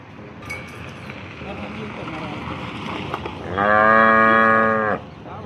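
Local Banaskantha cows on a Gujarat farm, with one loud, long moo rising clearly over a noisy outdoor background with faint voices.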